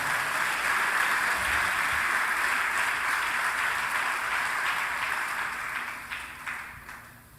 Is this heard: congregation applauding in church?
yes